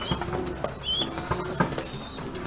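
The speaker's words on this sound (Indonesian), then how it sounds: "Tuh merpatinya latihan terbang" A young homing pigeon flapping its wings while practising flight, quick bursts of wingbeats close by, repeated through the clip with faint background noise.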